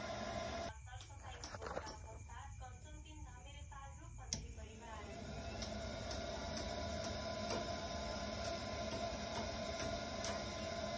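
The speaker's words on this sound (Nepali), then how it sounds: "एक नम्बरमा पंखा सुरु गर्न चलो।" A fan-assisted cookstove's small blower fan runs on its lowest setting, a steady mechanical whir with sharp clicks early on, heard close up as a person talks over it.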